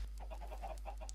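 Minecraft chickens in an automatic chicken farm, soft clucking in short repeated bursts at a low level over a steady background hum.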